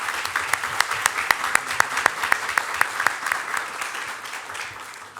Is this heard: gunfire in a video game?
no